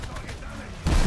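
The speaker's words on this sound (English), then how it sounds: "God, I love the sound of the twin 50s." Twin .50 caliber machine guns firing in War Thunder, a short, heavy rattling burst of gunfire that cuts in loudly near the end after a moment of engine drone and background noise.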